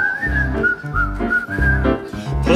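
Someone whistles a bright melody with sustained and gliding notes over a bouncy low accompaniment, clear and close, performed live at the Birdland Theater.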